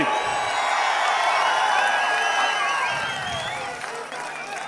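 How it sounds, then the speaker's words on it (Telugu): A large outdoor political rally crowd in Nagari applauds and cheers, a dense, sustained wash of clapping with whistles and shouts that holds loud throughout before easing slightly near the end. "ఈ మూడు పార్టీల్ని మనస్ఫూర్తిగా దీవిస్తామని, అండగా ఉంటామని గట్టిగా చప్పట్లు కూడా చెప్పండి"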